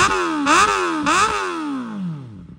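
Kawasaki ZX4RR motorcycle fitted with a custom KOU exhaust pipe, revving close up: two sharp throttle blips rise and fall, then the engine note winds down smoothly toward idle.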